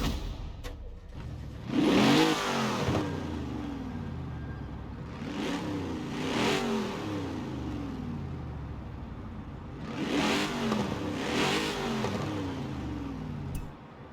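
A Mercury Cougar Eliminator in Forza Horizon 4 revs its engine in several separate bursts, each rising and falling in pitch over a steady idle, played clean with no talking.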